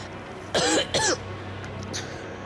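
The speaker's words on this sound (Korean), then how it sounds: "뒤에서 괴로운 기침 소리가 들리는 거예요." Painful coughing in a dramatized Korean military barracks ghost story: two harsh, strained cough bursts close together, close and fairly loud over a quiet background hum.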